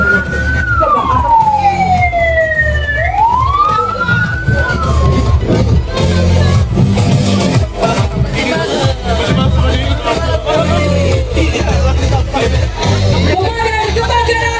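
Fire engine sirens wail and sweep up and down close by, loud and continuous, as the trucks head toward a forest and land fire drill in the IKN capital area; voices murmur in the background.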